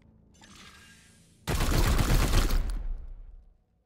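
Weapon fire in Warhammer 40K Chaos Gate Daemonhunters: a low mechanical rumble, then a sudden loud, dense burst of gunfire that roars for about two seconds before cutting off to silence.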